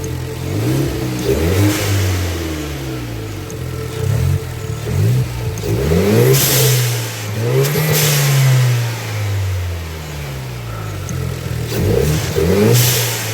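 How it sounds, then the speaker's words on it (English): A Hyundai Genesis car fitted with an aftermarket blow-off valve revs repeatedly, its engine rising and falling in loud pulls, with sharp whooshing valve releases between revs and no talking. "All right, so that's how the blow-off valve sounds."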